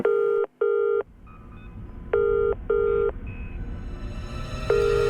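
Telephone call setup with a series of loud DTMF dialing beeps in short bursts separated by pauses, followed by faint ringback tones over low background hiss.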